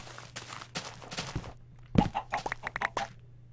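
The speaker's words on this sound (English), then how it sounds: "Hey, chickens." Blocky chickens cluck in the video game Minecraft, a few short clucks amid game footstep thuds and hits, fairly close and unaccompanied by talk.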